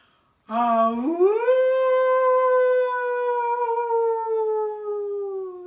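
A person imitates a wolf howl with one long sustained tone that rises at the start and then holds steady, close and loud, with no other sounds.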